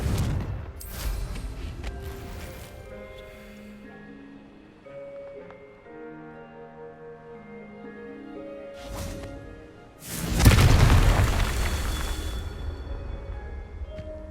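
Confringo fire spells exploding in the Hogwarts Legacy video game: a short burst, then a much louder roaring blast that fades slowly over a quieter game ambience, with no voices.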